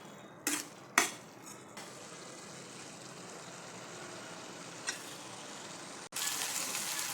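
A spatula clatters a few times against a pan as peanut powder is mixed into a dry ivy gourd stir-fry, followed by a steady low sizzling hiss and one more sharp scrape near the end.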